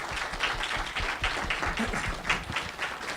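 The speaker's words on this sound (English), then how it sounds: "let's give our panelists a round of applause." Audience at an environmental panel talk applauding the panelists, a dense round of clapping from many hands held at an even level for a few seconds in an indoor room.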